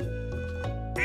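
A few nasal duck quacks from the video game Stardew Valley over a steady electronic musical backdrop, short and evenly spaced, with a brighter squawk at the end.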